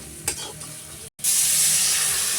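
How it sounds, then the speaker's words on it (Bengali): Spiced masala with tomato frying loudly in a pan, a steady broadband sizzle that swells after a brief stir and a momentary pause, with occasional utensil scrapes, close and continuous with no talking. "এই মশলাটা ভালো করে ভেজে নিচ্ছি।"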